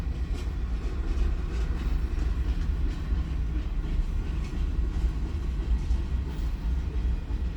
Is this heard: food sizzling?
no